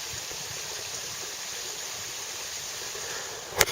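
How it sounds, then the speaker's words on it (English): Running water from a stream in a hilly, cedar-covered area of rural Japan, a continuous broadband rush at even, moderate level, with a brief sharp knock right at the end. "The sound of water too, very nice."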